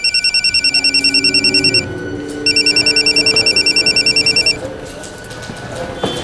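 A telephone rings while a call is placed to Mansi's mother: two loud bursts of rapid electronic trilling pulses separated by a short gap, followed by quiet background hum.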